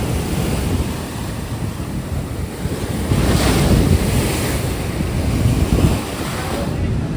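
Monsoon ocean surf on the beach at Ganpatipule, a loud continuous roar of breaking waves mixed with heavy wind buffeting the microphone, swelling slightly midway through.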